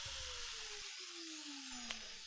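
An angle grinder cuts through the outer metal casing of a water heater, giving a loud, steady high-pitched whine whose pitch slowly drifts downward, with a brief dip in the low rumble partway through.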